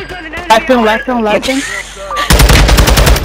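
Rapid machine-gun bursts ring out in the shooter game Chimera, loud and close, coming in after someone speaks over a quieter stretch.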